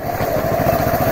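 A motorcycle engine runs steadily up close, a loud continuous rumble with a rapid pulsing beat and no voices.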